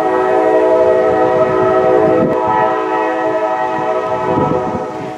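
A Norfolk Southern freight train hauling autoracks sounds a loud, sustained horn chord near Spartanburg, South Carolina, over a steady rumble of passing railcars.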